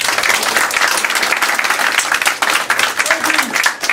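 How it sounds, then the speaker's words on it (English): Audience applause fills a classroom after a student presentation, steady dense clapping from a nearby group with some voices mixed in, continuous and loud throughout. "Y'all can clap."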